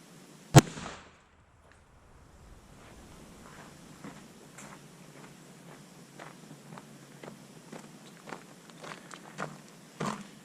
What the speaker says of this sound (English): I'll flip the box and shoot high velocity load